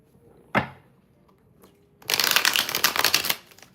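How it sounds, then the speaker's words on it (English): A sharp snap, then a quiet pause before a rapid, fluttering riffle of cards being shuffled close up for over a second. "I love the way these cards shuffle."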